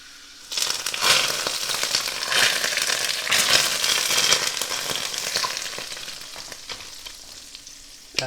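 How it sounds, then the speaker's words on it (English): Hot oil poured over egg, shrimp and green onions sizzles hard from the first half-second: a loud, close, crackling spatter that peaks early and gradually tapers over several seconds, with no talking. "That hot oil is going to further cook our egg, our shrimp."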